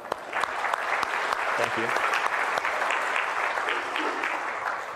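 Audience applause at a security research talk on Android devices, a steady broad clapping from a crowd that fills the whole stretch, with a brief spoken thanks heard over it.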